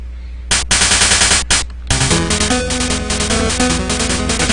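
Saturn, a boss in the Game Boy game Mega Man 5, fires rapid bursts of shots that crackle in a dense, continuous chiptune barrage over game music, loud and steady with brief gaps early on.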